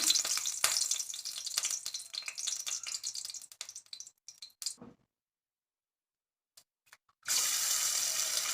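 Eggs frying in oil in a kadai, a crackling sizzle with scraping and clatter that fades into near silence midway, then a sudden loud, steady hiss returns for the final seconds.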